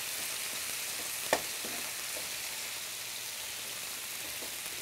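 Vegetables stir-frying in a pan give a steady, even broadband sizzle, with one brief clatter from stirring about a third of the way through; no voices.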